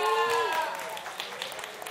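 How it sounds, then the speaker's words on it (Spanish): An event crowd's applause rises under a host's voice as it trails off, then continues at a moderate level for the rest of the short stretch. "¡Un aplauso para ellos!"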